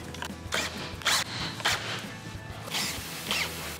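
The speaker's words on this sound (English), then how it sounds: "go underneath the camper and install screws to the bottom" Screws being driven into the underside of a Coleman pop up camper, a series of close mechanical whirring bursts and clicks spaced about half a second apart, with a steady low hum beneath and no talking.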